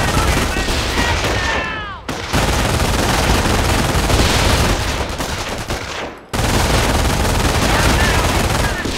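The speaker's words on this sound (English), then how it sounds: "Taking MG fire!" Sustained machine gun fire from the Company of Heroes video game, loud bursts of rapid automatic shots with brief pauses between volleys, dense battle noise throughout.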